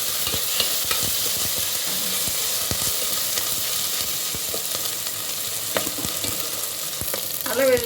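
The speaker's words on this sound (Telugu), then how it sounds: "అల్ల వెల్లుల్లి పేస్ట్ పచ్చి వాసన పోయే వాళ్ళు ఆయిల్లో ఫ్రై చేసుకోవాలి" Ginger-garlic paste frying in oil with onions for tomato gongura curry, a dense close sizzle running throughout with light scraping of a spatula, no voices.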